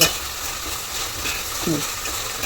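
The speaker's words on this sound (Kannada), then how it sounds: "ಈಗ ನಾನು ಚೆನ್ನಾಗಿ ಇದನ್ನು ಫ್ರೈ ಮಾಡ್ಕೊತೀನಿ ಈರುಳ್ಳಿನ" Onions and green chillies frying in a pan, a steady close sizzle with faint stirring scrapes over a short stretch.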